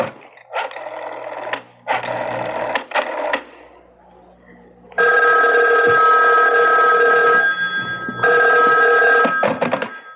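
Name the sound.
telephone ringing, radio drama sound effect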